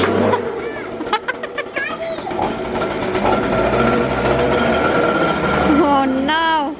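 A leaf blower runs continuously in a garden, blowing leaves off the trees with a steady, loud motor whine, while people chat over it.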